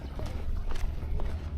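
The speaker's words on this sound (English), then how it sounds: "Some horses, let me see if I'll catch up with them" Several horses clip-clopping along a street, their hooves striking in a steady walking rhythm, moderately close over a low background rumble of the street.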